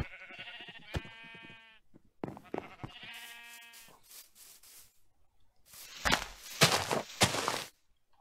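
Blocky game sheep bleat in a Minecraft world, several wavering harmonic bleats overlapping in the first few seconds, then a busier patch of thumps and scuffling near the end, with no talking.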